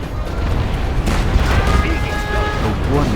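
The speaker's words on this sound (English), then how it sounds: "It will be a big explosion." Large explosion in the real-time strategy game Command & Conquer Generals Zero Hour, a GLA battle: a dense, rumbling blast with crackling debris, loud and sustained throughout, with faint tonal game sounds layered on top.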